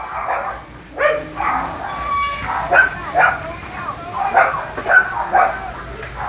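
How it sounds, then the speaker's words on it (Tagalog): Dogs in a residential subdivision bark and yip repeatedly in an uneven rhythm, some near and some farther off, with a voice talking over them at moments. "So all the dogs in the subdivision is barking"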